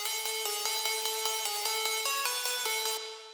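A future bass synth pluck lead plays a short melody of bright, quickly decaying notes in an even rhythm, loud and alone, ending with a brief fade.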